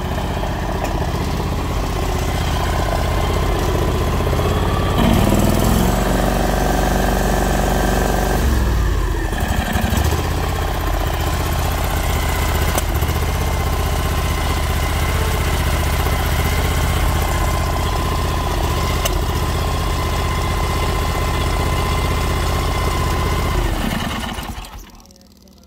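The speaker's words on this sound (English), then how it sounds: "So as you saw there, it does run." John Deere X475 lawn tractor engine running steadily and loudly up close, with a shift in pitch partway through, then cutting off abruptly near the end.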